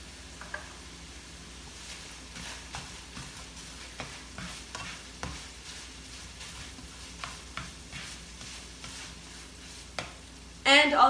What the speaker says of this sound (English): the sizzle starts to slow down a little bit